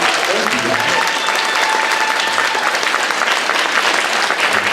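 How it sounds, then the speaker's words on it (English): An audience at a convention panel breaks into a dense, steady round of applause that holds loud and even for several seconds. "everyone's giving a round of applause"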